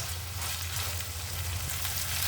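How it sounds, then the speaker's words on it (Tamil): Ivy gourd sizzles and crackles in hot oil in a home kitchen, a steady close frying hiss with no one speaking. "நல்லா இந்த கோவக்காய் நல்லா எண்ணெயிலேயே சுருள சுருள நல்லா வெந்துச்சுன்னா"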